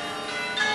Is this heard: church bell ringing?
yes